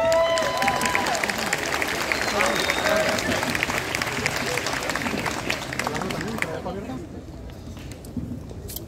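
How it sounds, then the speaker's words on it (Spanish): A crowd at a high school graduation ceremony applauds in a dense wave of clapping, with a voice speaking over it before the applause drops away near the end. "Un aplauso."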